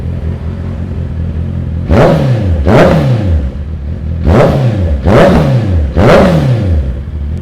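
A Honda CB650F with an aftermarket exhaust is revved five times, each throttle blip rising sharply and falling back to a steady idle, loud and close with no talking.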